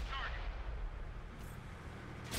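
A tank cannon firing in World of Tanks, a deep rumbling boom that rolls on under a low engine drone, followed by a brief sharp crack near the end.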